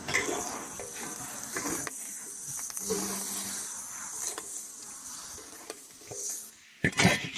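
Pig trotters being stir-fried dry in a pot over a rural wood fire, with a metal spatula scraping and clinking against the pot and a soft sizzle, under a speaking voice.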